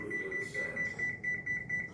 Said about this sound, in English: Set my timer for 15 minutes.